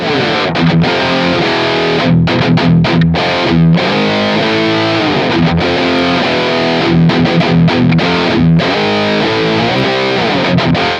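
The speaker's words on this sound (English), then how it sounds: "So I'm going to play with full gain here. This is a diesel style setting" Heavily distorted Ernie Ball Music Man Luke III electric guitar at full gain on a Diesel-style setting plays loud, chugging riffs and chords with brief choked pauses, saturated and aggressive throughout.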